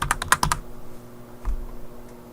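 A burst of quick keystrokes on a computer keyboard while naming a list in Excel 2013, close and fairly soft, followed by near silence and a single faint click.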